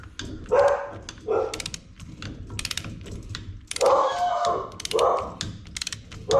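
A dog barks repeatedly in a garage workshop, loud and close in short bursts, mixed with sharp metallic clicking and ratcheting of tools between barks.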